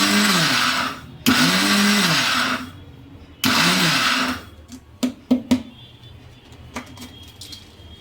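A mixer grinder coarsely grinds sesame seeds and spices in three loud bursts, each starting abruptly and running about a second, separated by pauses, then a few sharp clinks and taps as the jar settles.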